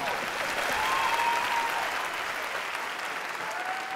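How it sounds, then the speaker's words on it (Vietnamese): An audience at a televised talent show applauds with steady, full clapping that holds at an even loudness throughout. "Vỗ tay lên các bạn ơi."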